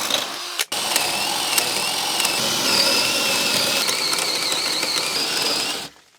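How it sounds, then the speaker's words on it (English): Power drill boring through a wooden floor joist in a crawlspace, starting with a brief burst, then a steady loud whirring grind for about five seconds before stopping abruptly, close and without talk. "So I'm going to drill from this side so I know that I'm not going to hit that"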